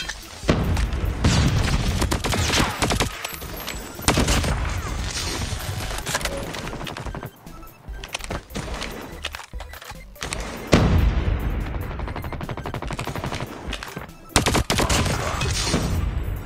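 KSP-45 burst rifle firing in Call of Duty, loud clustered bursts of gunfire repeating through a busy firefight with booms and impacts, dense and close throughout.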